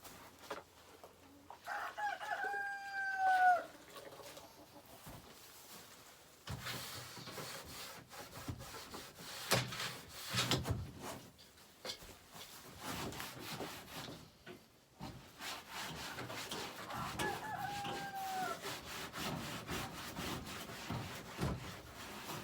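Chickens and a rooster in a backyard chicken coop, with two clear rooster crows, one early and one later, set over scraping, rubbing and knocking from cleaning work in the coop.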